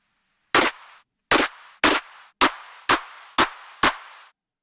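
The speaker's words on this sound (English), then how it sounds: "Just gonna go ahead and layer this with the 909 clap" A 909 drum machine clap sample layered in music production, struck seven times in a steady, slightly uneven rhythm, each clap sharp and loud with a short decaying tail, with no voices.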